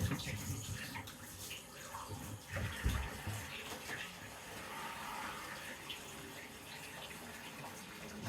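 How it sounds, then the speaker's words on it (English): Water runs into a bathtub from the tap as a steady broadband rush, fairly faint, with a few small bumps and clatters near the start. "let's run this bath"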